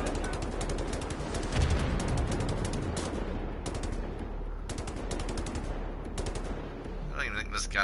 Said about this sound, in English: I don't even think this gun works very well.